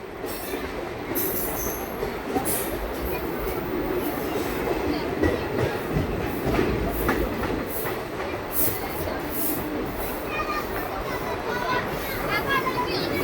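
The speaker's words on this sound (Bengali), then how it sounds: "কোলাঘাট রেল স্টেশন স্কিপ করে বেরিয়ে যাবে সাঁতরাগাছি দীঘা ফার্স্ট প্যাসেঞ্জার" A Santragachi–Digha fast passenger train runs through Kolaghat station without stopping, giving a steady, loud rumble of wheels on rails with some squeal, sustained throughout, and a voice speaking over it.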